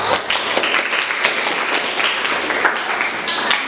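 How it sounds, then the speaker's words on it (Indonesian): Classroom students clap for a group presentation, a short burst of dense applause from a nearby crowd with some voices underneath. "silakan tepuk tangan kelompok 1"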